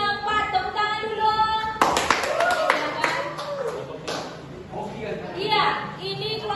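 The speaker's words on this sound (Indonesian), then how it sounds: "Tepuk tangan dulu." Classroom applause for a student group after a performance, a burst of dense clapping from several children that starts mid-clip and tapers off, mixed with voices talking over it.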